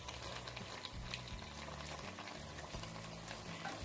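Vegetables fry in a pan for jarred winter preserves, giving a steady, close, dense sizzle and bubbling that runs without a break and with no voices.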